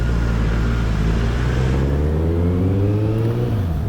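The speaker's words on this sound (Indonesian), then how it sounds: "saya tetap memaksa menggunakan knalpot berisik" A Kawasaki Z800 motorcycle with a loud aftermarket exhaust, in daily road use, drones steadily and close with a deep, throaty engine note that rises and then eases off, alone without talk.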